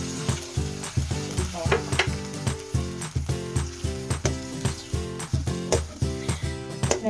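Chicken adobo frying in a pan as potatoes and water go in, a steady sizzle running beneath loud rhythmic background music throughout.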